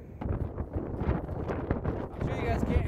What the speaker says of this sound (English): the wind gusting at like 40 mile an hour